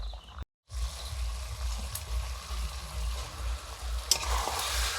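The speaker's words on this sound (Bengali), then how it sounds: "মটনটা কষানো চলছে এই প্রথম থেকে রান্নার শুরু থেকে" Mutton sautéing in a pan as it is browned for a curry at an outdoor night meal, a steady close sizzle with stirring scrapes, a brief dropout near the start and a sharp clank later.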